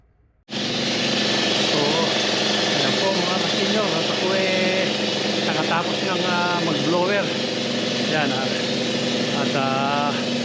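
An air compressor in a home garage runs loud and steady after a sudden start, a constant mechanical drone with someone speaking over it.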